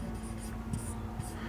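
Handwriting a maths solution for a D.El.Ed first semester paper, a faint continuous scratch of pen on paper with a few soft strokes and no talking.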